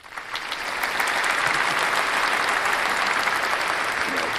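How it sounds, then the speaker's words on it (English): Steady crowd applause swells in over the first second and holds as dense, continuous clapping at close range for the rest of the stretch, with no voices standing out above it. "Let's give a clap there"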